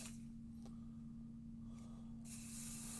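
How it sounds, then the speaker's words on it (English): A can of pixie spray hisses over a paper stencil in quiet short puffs, then a longer, louder burst, close by over a faint steady hum. "Now we're going to take our pixie spray, and we're going to spray this"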